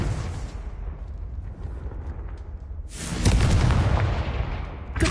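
A Confringo fire-blast spell bursts in Hogwarts Legacy, a rumbling boom followed a few seconds later by a louder, sharper explosion with crackling debris, close and heavy, with no talk.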